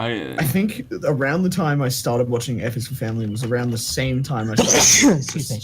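A single sneeze bursts out near the end of a stretch of steady conversational talk between podcast hosts discussing animated shows.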